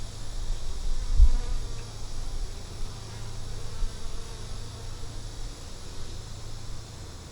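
Honey bees swarm around an open hive, a dense, steady buzzing drone that stays loud and close throughout, with no voices.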